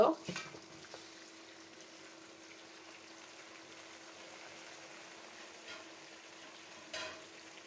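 Beef going into a hot pan, an initial splash and clatter and then a low, steady frying hiss that stays fairly quiet, with a brief stirring scrape near the end and no talk.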